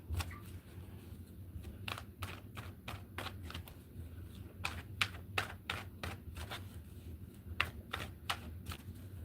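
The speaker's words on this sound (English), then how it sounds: "Here, let me shuffle on camera." Tarot cards shuffled by hand at a pick-a-card reading, a steady run of crisp riffling snaps and soft flutters close to the mic over a low background hum, with no talking.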